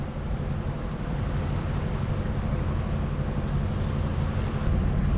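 Strong tidal current rushes steadily past a sailboat near a bridge among islands south of Bergen, a dense, even roar of water and wind noise with no breaks and no voices.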